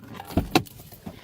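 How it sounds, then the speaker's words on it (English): Keys jangle in two quick metallic clinks as a vehicle is shut off, close and brief, followed by faint rustling in a quiet interior. "let me shut off my vehicle"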